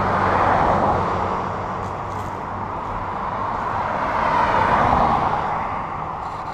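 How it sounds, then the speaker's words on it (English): Heavy road traffic roars steadily close by, its dense rumble of passing vehicles swelling and easing without any speech. "right now the traffic's very, very strong here, and you probably won't be able to hear me through the whole video"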